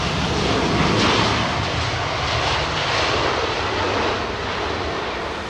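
A JetBlue jet airliner at London Heathrow, a loud, steady broadband engine roar that holds close and constant throughout with no voices.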